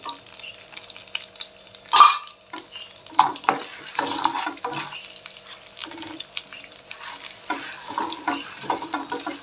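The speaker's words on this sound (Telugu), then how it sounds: "కొంచెం లో ఫ్లేమ్లోనే వేపుకుందాం" Whole spices and a little tamarind fry in a pan over a low flame for miryala pongal, giving soft crackles with intermittent stirring scrapes and one sharp clatter near the start, close and moderate in volume.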